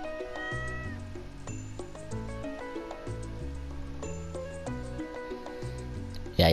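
A cat meows in the video game Stardew Valley, mixed in with steady, busy melodic game music that plays throughout at an even level.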